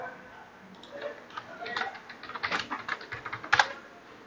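Fingers typing a password on a computer keyboard, a run of quick, light key clicks that builds toward a sharper pair of taps near the end, close and alone without speech.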